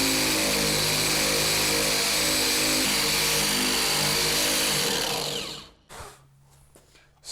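An abrasive scuff wheel on a power tool strips paint from a dented area of a Honda S2000 car body, a loud continuous grinding whine that winds down and cuts off near the end, followed by a few short knocks.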